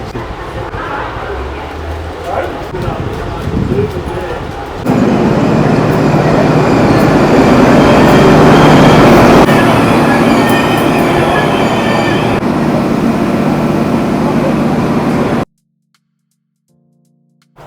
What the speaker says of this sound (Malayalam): നമ്മളങ്ങനെ ട്രെയിനിൽ കയറി കേട്ടോ